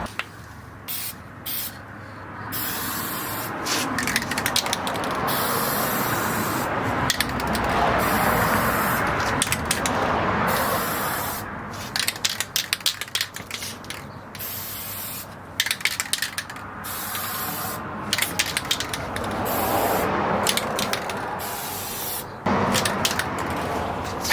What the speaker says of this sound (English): these sprays, the spray tips that come on these cans